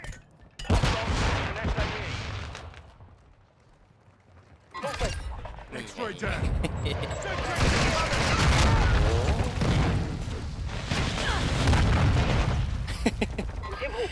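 Grenade blasts and gunfire in the shooter Call of Duty Modern Warfare 2, loud booming bursts that crowd most of the stretch after a short lull, with a voice speaking in between.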